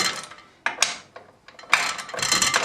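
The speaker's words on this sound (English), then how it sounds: "we're going to go in and we're going to torque these back bolts" A ratchet wrench clicks in a few short bursts with pauses between them as the back bolts are tightened during an ATB install, close and alone.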